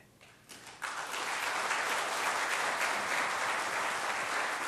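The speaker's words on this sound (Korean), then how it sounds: "다시 한번 뜨겁게 박수해 주십시오." A church congregation applauding during a Sunday worship service, clapping that starts sparse and quickly swells into full, sustained applause from a large crowd, steady until the end.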